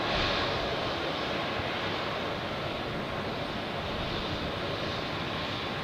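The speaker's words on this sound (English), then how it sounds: "we can see all the heavy airplane departures" A heavy airliner departs Zurich airport, its jet engines producing a loud, steady broadband roar that holds at high level throughout the clip, with no voices over it.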